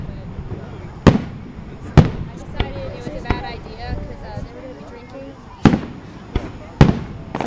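Fireworks burst at a 4th of July show, sharp loud bangs spaced irregularly a second or more apart, with people talking quietly between the blasts.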